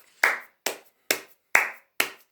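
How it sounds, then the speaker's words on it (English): One person claps their hands five times in an even, unhurried rhythm. The claps are crisp and close, with silence between them. "I'm just going to finish with this video with a round of applause."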